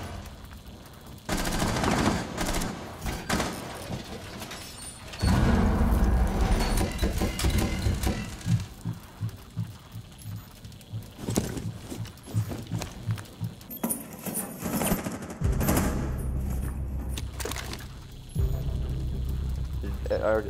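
Bursts of shooter video game gunfire, several rapid volleys spread across the stretch, loud and close, mixed with a player talking over game sounds.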